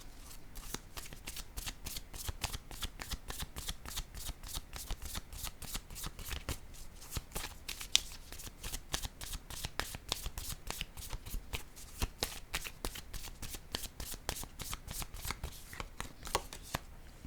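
Tarot cards are shuffled continuously at close range, a rapid, even riffle of crisp card flicks running without pause through the whole stretch.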